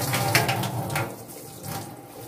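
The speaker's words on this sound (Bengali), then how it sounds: "আই হোপ এটাই মধুবন্তীর লাস্ট চা খাওয়া এবং সসপ্যান মেজে রাখা।" Tap water runs steadily into a sink while a saucepan is washed, a moderate splashing stream with light clatter and no talk.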